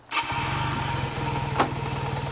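A 1980 Kawasaki LTD440 motorcycle engine starts up and settles into a close, steady idle with an even low pulsing throb, with one brief clack partway through.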